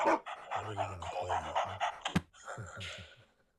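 A dog pants rapidly in a steady rhythm, close by, with a sharp click and a short yip near the end, from the video game Into the Dead 2.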